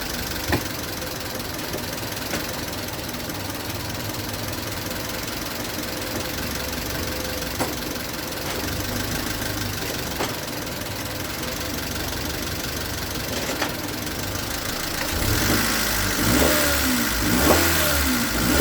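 A car engine with replaced rod bearings, previously locked up, runs steadily at a low idle while shifted into drive and reverse, with occasional knocks and a rise in revs and rumble toward the end.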